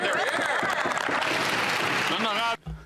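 Applause and cheering sweep through Canada's House of Commons during Question Period, a dense, loud wash of clapping mixed with many voices. It cuts off abruptly near the end.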